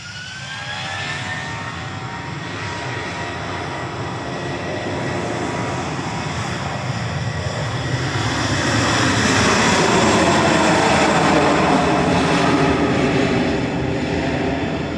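A jet airliner takes off at Manchester Airport, its engine roar loud and continuous, building over about fifteen seconds into a broad, rushing thunder with no speech.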